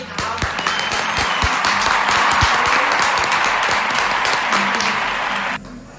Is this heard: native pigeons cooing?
no